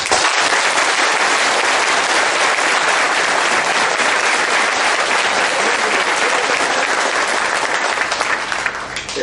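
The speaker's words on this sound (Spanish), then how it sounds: "Yo les pido a ustedes que por medio de un aplauso me digan cómo está nuestro corazón" A congregation at a Catholic mission gathering breaks into loud, dense applause that fills the space without pause, a thick wall of many hands clapping at once before easing off slightly at the very end.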